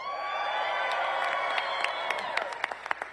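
At an election night victory rally in Georgia, a large crowd cheers and applauds in a steady roar, with whoops and louder claps building toward the end.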